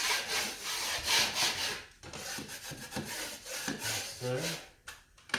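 Dried corner cement is scraped back along a repaired wall crack with a blade, giving steady rough rasping strokes that come close and loud, pause briefly, then resume.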